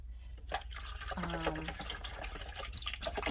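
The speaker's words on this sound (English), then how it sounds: "let me get water back in here" Water pours from a container into the reservoir of an AeroGarden Harvest Elite Slim indoor garden, a short, close, steady trickle and splash lasting a few seconds.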